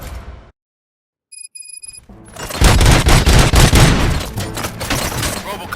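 Gunfire in the Robocop Rogue City video game: after a brief silence and a faint electronic tone, a loud, dense burst of rapid shots erupts and keeps going as a sustained fusillade with booming impacts.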